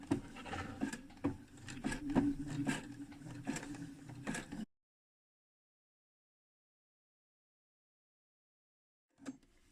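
A sewing machine stitches slowly around the curve of a trouser fly, giving a quiet, steady mechanical patter for several seconds, then near silence with one brief faint tap at the end.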